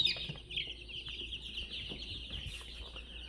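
Young Cornish cross chicks cheep and peep steadily at close range, with soft rustling and bumps underneath.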